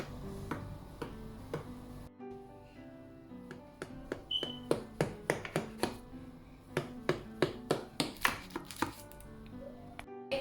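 Sharp knife cuts through a coconut butter cake, tapping repeatedly against a board in a quick series of crisp, close knocks with brief pauses between strokes.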